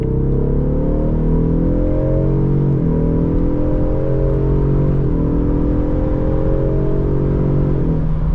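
A 2026 Ford Mustang EcoBoost accelerates hard onto a highway from inside the cabin. Its engine note rises steadily through several gears, and each upshift brings a short dip before the note climbs again, loud and continuous.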